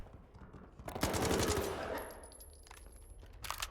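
Automatic gunfire with armor-piercing ammo in the video game S.T.A.L.K.E.R. 2: Heart of Chornobyl, a dense burst of rapid shots lasting around a second, then a quieter tail and one more short burst at the end.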